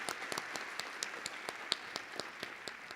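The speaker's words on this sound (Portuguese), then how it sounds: "vamos recebê-los com uma salva de palmas" Scattered audience clapping at a welcome during an association's gathering, fairly quiet and thin, with a few individual sharp claps standing out over a steady patter.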